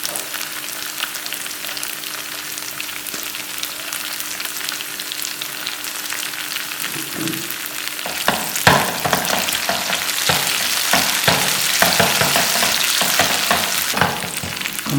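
Steady hot-oil sizzling fills the whole stretch, growing louder and crackly partway through as finely chopped curry leaves hit the pan for a moong dal tempering, with light stirring.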